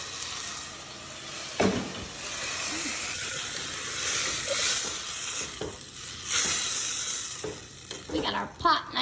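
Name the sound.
tomatoes sizzling and being stirred in a hot pot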